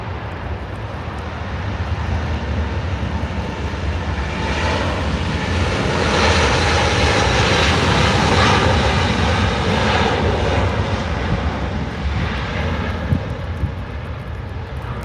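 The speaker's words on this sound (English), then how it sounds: "this is LOT Polish Airlines Flight 22" Jet engines of a LOT Polish Airlines airliner roar steadily and loudly throughout, a broad sustained rumble that swells slightly in the middle as the plane moves.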